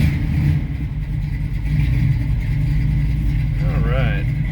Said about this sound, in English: Let's go ahead and fire it up.